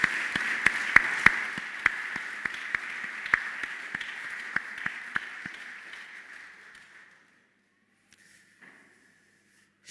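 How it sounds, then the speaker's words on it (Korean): Church congregation claps in praise during an Easter service, a sharp, fairly sparse patter of individual claps over a resonant hum, thinning out and falling silent after about seven seconds. "하나님께 영광의 박수"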